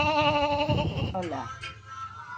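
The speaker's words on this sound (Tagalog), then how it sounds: "Nagchichismisan na mga kambing mga lalab." Goats bleat in a few wavering, nasal calls on a windy countryside farm, fairly close and loud, with other voices or animal noise mixed in around them.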